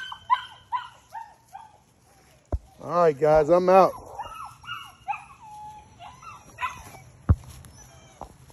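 Bicolored puppies whimper and yip in short high-pitched bursts, with one louder run of strained whining near the middle, while someone talks over them.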